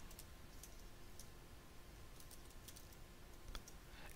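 Faint, irregular key clicks from someone typing a student's first name on a computer keyboard, scattered sharp taps over a quiet background hiss.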